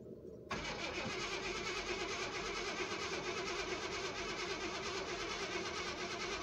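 1970 Chevy Impala engine, parked since 1994 and fed old gas, catches abruptly and settles into a loud, slightly rough idle close by.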